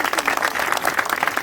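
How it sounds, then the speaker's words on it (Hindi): An audience at a school speaking event claps in a short burst of steady applause, close and fairly loud. "एक बार इनके लिए तालियां बजा दीजिए"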